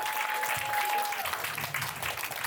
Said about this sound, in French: Acclamons encore une fois parce qu'ils ont donné à César ce qui est à César.